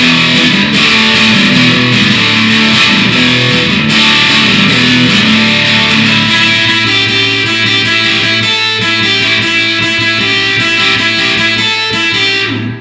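Loud, fuzzy electric guitar through a Big Muff fuzz pedal plays sustained garage-rock chords and riffs, thick and saturated, ringing out before cutting off at the end.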